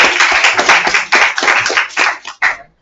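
Classroom applause for a student: a brisk burst of many hands clapping close by for about two and a half seconds before it quickly dies away.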